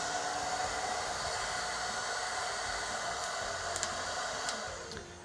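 Steady broadband rush of an air blower with a split nozzle drying a colour-shift Dutch acrylic paint pour, continuous and close with a slight fade near the end.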